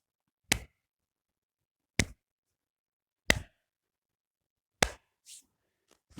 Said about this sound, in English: I'm going to get a slow clap